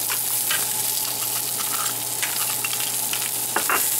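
Dried chiles hit a pan of frying garlic and peppercorns for a Mexican-style oxtail braise, giving a steady, close crackling sizzle with a few sharp scrapes and clinks of stirring.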